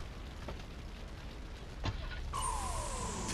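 Car engine revving up as it accelerates in GTA 3 Remastered on PS5, a steady rising motor tone that swells partway through and carries to the end, with no talk over it.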